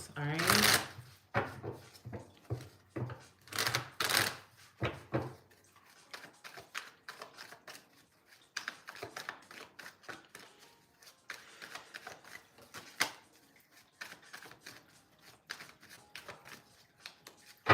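Tarot cards are shuffled in crisp riffling bursts, loud and close for the first few seconds, followed by softer, scattered card handling and taps that continue intermittently.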